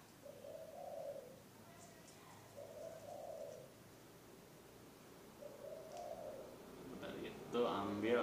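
A zebra dove (perkutut) chick coos softly in three separate low, rounded phrases with pauses between them. Brief handling rustles and clatter follow at the end.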